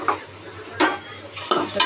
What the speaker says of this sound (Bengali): এটাকে নেড়ে দিব